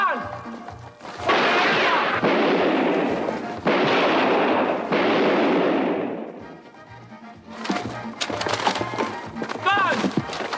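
Gunfire in a 1988 police training film on surviving edged weapons: several loud, harsh bursts of shots and impacts in quick succession, with shouting voices between and after them.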